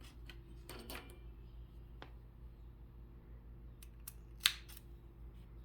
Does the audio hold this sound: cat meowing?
no